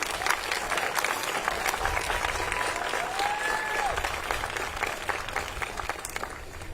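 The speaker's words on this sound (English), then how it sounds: "Give yourselves some applause." An audience at a celebration launching the Hope Scholarship at Rhode Island College claps steadily and densely. A faint whistle-like tone rises and falls partway through.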